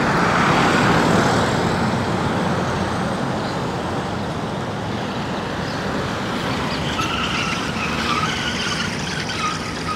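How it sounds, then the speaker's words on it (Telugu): Dense road traffic at the Laos–Thailand land border crossing rushes past nearby, a continuous loud roar of tires and engines with vehicles swelling and fading one after another. "రోడ్ క్రాస్ చేస్తానండి, చూడండి బండ్లు చూడండి ఎన్ని వస్తున్నాయి."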